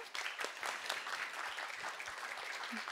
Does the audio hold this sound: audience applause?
yes